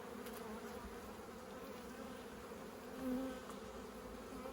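Honey bees buzz steadily in an opened beehive, a faint continuous hum with a brief louder swell near the end, and no voices.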